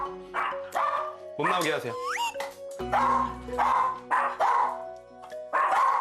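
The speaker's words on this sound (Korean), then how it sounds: "역시나 자동으로 짖는 녀석." A rat terrier named Max barks repeatedly at a visitor indoors, loud sharp yaps in bursts with a brief whimpering whine, while people talk over and between the barks.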